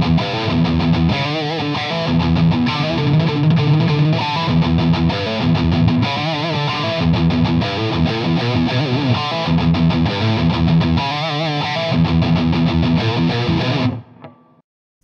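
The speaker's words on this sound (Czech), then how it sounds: "Takže na kobylkový snímač zkreslený zvuk." A Schecter C-1 SGR electric guitar on its bridge pickup plays a heavily distorted riff, loud and continuous with chugging low notes and chords, then cuts off abruptly near the end.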